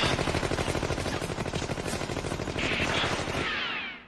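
A rapid string of anime gunshots from a pistol rattles off in quick succession, loud and close, ending with a brief ricochet-like whine.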